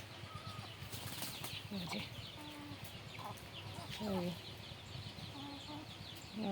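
Chickens squabbling nearby, with sharp clucks and squawks and a brief flurry of flapping wings over a quiet outdoor background.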